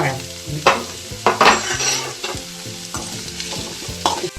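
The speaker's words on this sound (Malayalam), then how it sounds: "ഇനി ഇതിലേക്ക് ഉള്ളി ഇതെല്ലാം ഒന്ന് വഴണ്ട് വരണം" Chopped onions sizzling in a hot pan for an aloo paratha potato filling, with irregular scraping stirs and the clink of a spoon against the pan over a continuous frying hiss.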